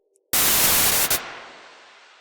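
A sudden loud blast of white noise from a synthesizer's noise layer cuts in, holds for about a second, then drops and fades away gradually.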